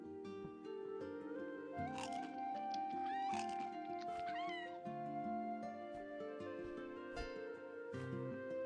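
A pet cat in the Core Keeper video game meows repeatedly in a steady series of clear, tonal calls over game music, with no talking.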